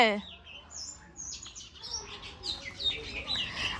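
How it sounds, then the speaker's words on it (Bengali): Birds, including a magpie robin, call and chirp outdoors in overlapping, warbling phrases, moderately close, over a faint background hum. "এই যে প্রচুর পরিমাণ পাখি ডাকছে শুনতে পাচ্ছ কিনা জানি না"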